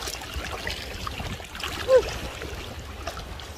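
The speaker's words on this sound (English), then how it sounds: "It's shallow, but the waves are really, really wild." Shallow water at a Florida spring beach churns with choppy waves, a steady broadband wash and trickle with one brief louder splash near the middle, under faint wind and breathing.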